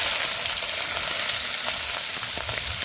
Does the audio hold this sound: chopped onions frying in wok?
yes